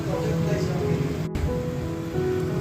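Marinated chicken goes into hot spice paste in oil, setting off a steady close crackling sizzle that dips briefly and then carries on.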